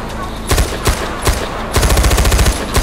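Mounted machine gun firing in the video game Far Cry 4, starting as three spaced single shots and then breaking into a loud rapid burst of repeated shots, with no talk over it.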